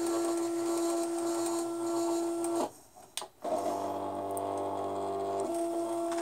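Silhouette Cameo cutter feeding vinyl through its rollers, a steady mechanical whir and hum with a brief pause midway before the motor resumes.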